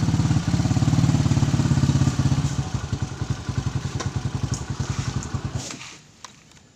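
A motorcycle engine idles up close with a steady, rapid putter, then slows and cuts off near the end, leaving faint background noise.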